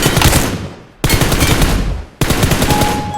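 Rapid automatic gunfire from a mobile shooting video game, loud and continuous, in three sustained bursts with brief gaps between them and no talk.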